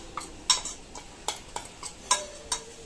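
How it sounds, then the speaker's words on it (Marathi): A spoon clinks against a pot while rice flour is stirred into boiling water for ukadiche modak dough: about eight irregular sharp taps and scrapes, close and fairly quiet, with no talking. "तर हे पीठ चांगलं मिक्स करून घ्यायचं आहे आपल्याला"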